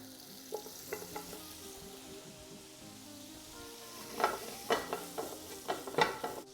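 Onions sizzle in butter in a pan used earlier for mushrooms. The frying stays soft and steady at first, then grows louder with sharp crackles and stirring clatter in the second half. No one speaks.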